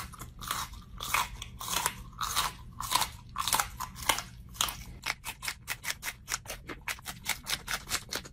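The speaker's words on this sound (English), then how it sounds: "These are cayenne peppers, and apparently they're hotter than jalapenos. We're gonna see how many I can eat." Close, crisp crunching and chewing as cayenne peppers are eaten, with slower irregular bites at first that give way to a fast, regular run of sharp crunches, with no talk.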